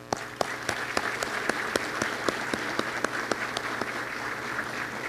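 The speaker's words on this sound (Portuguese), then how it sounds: "Um aplauso a Amácio Mazzaropi." Audience at a formal solemn session applauds in honour of a Brazilian actor, dense continuous clapping with crisp close claps rising above the crowd throughout.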